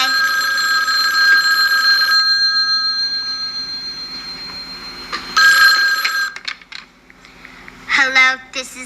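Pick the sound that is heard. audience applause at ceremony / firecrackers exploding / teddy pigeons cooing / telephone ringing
telephone ringing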